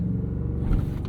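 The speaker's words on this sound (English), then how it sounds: "let's try and find a straight section and we'll do a launch control" A 2023 BMW 760i xDrive in sport transmission mode builds revs against the brake for a launch control start, a steady close engine rumble that swells slightly near the end.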